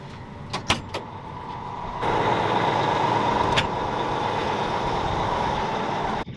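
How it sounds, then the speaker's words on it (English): A farm tractor's engine idles steadily while warming up during canola seeding, a continuous broadband rumble that steps up louder after a couple of seconds, with a few short clanks and thumps early on. "As the tractor's warming up"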